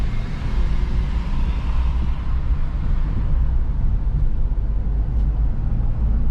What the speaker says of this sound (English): I'm almost wide open throttle right now, and it's not going anywhere.